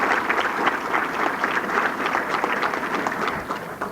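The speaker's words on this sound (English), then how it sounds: "I wish you'd give them a clap to all the committee and everybody else" A hall of fame ceremony audience gives a scattered, moderately loud round of clapping, uneven and lively throughout the short stretch.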